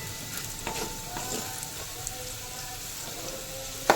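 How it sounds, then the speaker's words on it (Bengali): Potatoes frying in oil in a pan, a steady soft sizzle with light crackles and occasional stirring clinks, close and even throughout. "তার জন্য আলুটা একটু ভালো করে ভেজে নিয়ে তারপর ক্যাপসিকাম দেবো।"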